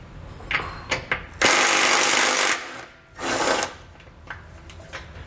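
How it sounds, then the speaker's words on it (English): Ratchet with a 15 mm socket working on nuts and bolts: short clicking bursts, then two longer sustained runs of rapid ratcheting up close, with scattered single clicks and knocks between. "grab a 15 millimeter socket and we'll remove the two nuts on top and the two bolts on the bottom from each side"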